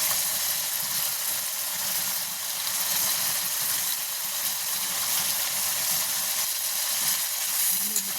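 Walnuts, almonds and sugar are stirred in a pan over a clay stove, giving a steady, close sizzle and frying hiss that runs the whole time with faint scraping underneath.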